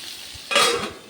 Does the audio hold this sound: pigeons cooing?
no